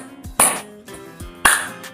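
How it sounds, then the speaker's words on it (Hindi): Vigorous hand clapping in a senior citizens' yoga exercise: a few sharp, loud claps spaced roughly a second apart, close by, with softer slaps and faint room sound between them. "जितना मर्जी अधिक ताकत के साथ लगातार ताली पे ताली बजाएं"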